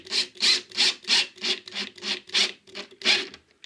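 A screw is driven into a Fischer plug in plasterboard, giving about ten evenly spaced gritty rasping turns, close and fairly loud.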